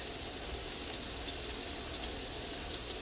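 Tap water runs steadily into a cooking pot in a kitchen, a constant close hiss and splash with no pauses and no voices.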